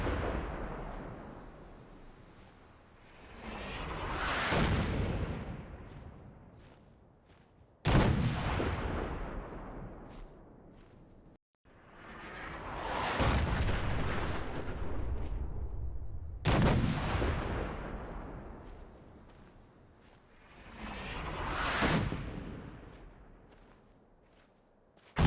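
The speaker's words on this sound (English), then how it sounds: "Artillery support." Artillery bombardment in Fallout 4 arrives as a series of heavy, booming impacts, each swelling into a long rumbling roar and fading before the next strike, with sharp cracks between the blasts.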